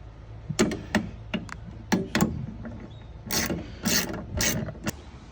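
Ratcheting clicks from a wrench tightening bolts on a 1965 Ford Mustang, coming in short uneven bursts of metallic clicks and rasps, close by, with no talking.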